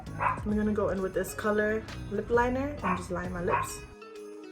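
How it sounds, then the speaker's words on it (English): A dog yips and barks repeatedly indoors in a quick, uneven series, heard beneath someone talking steadily nearby. "that's my dog barking"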